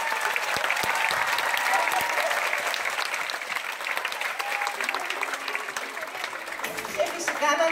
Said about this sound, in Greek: θα ήθελα ένα ακόμα πιο μεγάλο χειροκρότημα για τα παιδιά